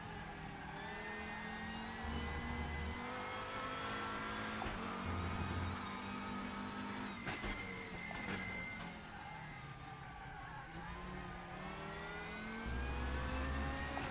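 Race car engine in the RaceRoom racing game, a continuous high whining drone with repeated throttle blips that briefly swell in pitch and loudness, heard at a low, even level with no talk.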